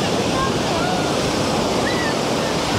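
Stormy sea surf pounds the beach at Vityazevo near Anapa in a continuous loud roar of breaking waves mixed with wind buffeting the microphone, no voices.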